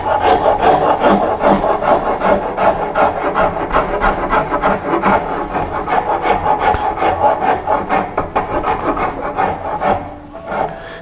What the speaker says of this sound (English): I'm using a number 50 Nicholson rasp here.